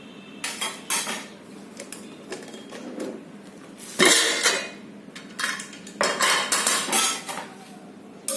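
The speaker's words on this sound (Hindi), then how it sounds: "अब लीड खोल के देखते हैं।" Steel pressure cooker lid being unlocked and lifted after one whistle on an induction cooktop while making fruit peel jam, with metallic clanks, scrapes and clinks of cookware in a close, busy kitchen setting, no talking.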